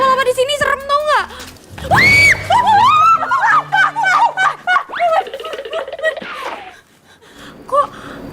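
A person lets out loud, high-pitched screams and shrieks in a scene from an Indonesian TV drama, mixed with gasps and frantic, laughing outbursts over several seconds, close to the microphone.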